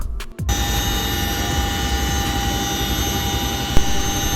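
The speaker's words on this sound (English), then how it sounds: "CH-47 Chinook is one of the most powerful and versatile transport helicopters capable of carrying heavy loads" CH-47 Chinook military transport helicopter in flight, heard from inside as a loud, steady, dense roar of engines and rotors with a constant low throb and no letup.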